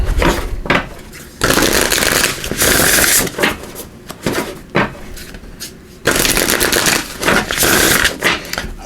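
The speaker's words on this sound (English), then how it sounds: "Give these a good shuffle" Oracle card shuffling in repeated bursts, crisp riffling and flapping close by, with short pauses between rounds and no talking.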